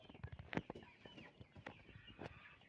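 Cobb 500 broiler chickens feed with faint, busy pecking and soft clucking, a quick scatter of small taps and murmurs at a low level throughout.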